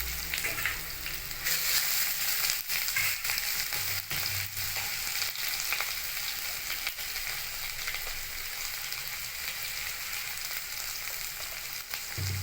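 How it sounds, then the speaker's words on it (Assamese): Ginger garlic paste frying in hot oil with onion, a constant crackling sizzle with a few sharp pops and stirring scrapes, close by and with no voices. "এটা আদা নহৰুৰ পেষ্টখিনি দিছোঁ, মই তেলতে দিছোঁ।"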